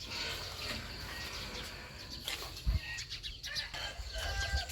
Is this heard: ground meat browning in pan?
no